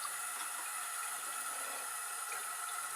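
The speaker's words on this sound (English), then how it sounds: "I'm gonna put some warm water in here." Warm water runs from a tap into a household sink in a steady, even hiss. The rushing stays continuous and moderately loud, with no voices over it.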